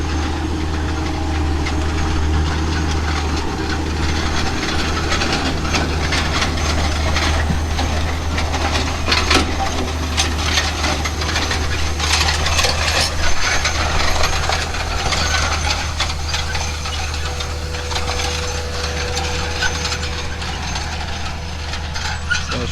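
A Steiger tractor runs steadily while cruising over a field during planting, a continuous deep engine drone with low rumble and mechanical clatter, close and unbroken throughout.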